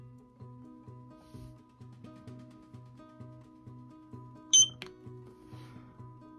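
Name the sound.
security camera sync beep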